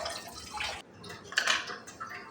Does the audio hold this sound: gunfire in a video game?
no